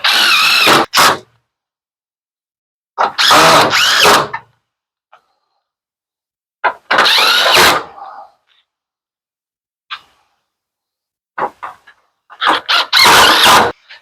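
A power drill drives screws to fix the front panel back on an LG front-load washer, sounding as several loud, close whirring bursts of a second or so, separated by silence.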